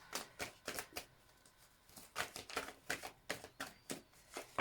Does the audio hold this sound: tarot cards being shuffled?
yes